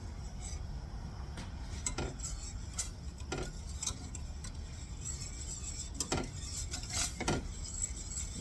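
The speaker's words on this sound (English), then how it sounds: "we're going to be stirring in the salt and the butter or lard or margarine" A whisk stirs salt and butter into a simmering tamale mixture, giving faint scraping and taps against the pot at an uneven rhythm over a soft steady background.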